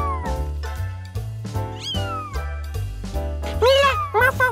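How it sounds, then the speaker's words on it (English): Cartoon kittens meow in a children's animated show, several bright rising and falling mews over background music, with the last two near the end loudest. "Mila, Morphle found the kittens"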